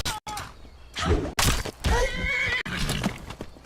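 A horse in the video game Skyrim gives a loud, close whinny with snorting and rough breathy bursts, heard alone and ending with what sounds like a hoof thud.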